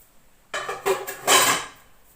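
Dishes and pots being put away in a home kitchen during a morning routine, with several clattering knocks of metal vessels, close and moderately loud, over about a second and a half.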